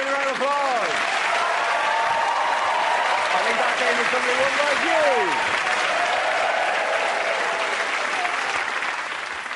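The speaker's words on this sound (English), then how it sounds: "give everyone a round of applause" A studio audience claps for a comedy panel show, loud continuous applause with someone talking over it the whole way through.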